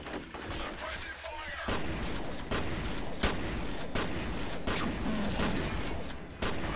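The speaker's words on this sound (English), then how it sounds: "He's shooting you." Rapid gunfire from an enemy mech in the shooter game F.E.A.R., a loud run of repeated bursts and cracks with short gaps between them, heavy and close, with a little voice underneath.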